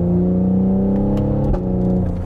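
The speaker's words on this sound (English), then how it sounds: "Oh, you hear that pop, the little burble there?" A 2020 Cadillac CT5-V downshifting, loud steady engine drone from inside the car with a brief exhaust pop and burble breaking through near the middle, no talking.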